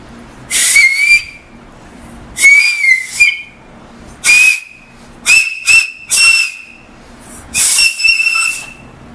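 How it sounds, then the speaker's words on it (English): Loud, shrill finger whistles blown in short bursts, about six separate blasts with brief pauses between them, close and piercing. "only whistle I know is this finger whistle"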